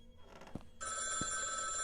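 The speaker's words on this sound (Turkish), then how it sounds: "Telefon çalıyor." A telephone rings in a horror video game, starting partway through as a loud, steady electronic bell tone after a few muffled thumps, and continuing without pause to the end.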